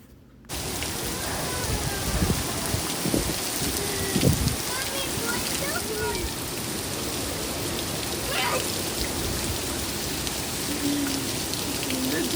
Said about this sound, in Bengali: বৃষ্টির যে একটা আওয়াজ, সেই আওয়াজটা এত ভাল লাগছিল